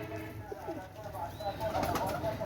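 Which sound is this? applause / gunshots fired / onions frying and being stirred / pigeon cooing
pigeon cooing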